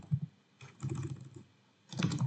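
Computer keyboard keys typed in quick bursts while JavaScript code is entered, two clusters of clicks separated by brief pauses, close and clear with no talk.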